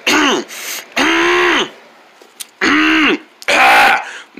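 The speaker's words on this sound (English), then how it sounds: "Let me clear my throat." Someone clears their throat three times in harsh bursts separated by short pauses, close up, with faint clicks between.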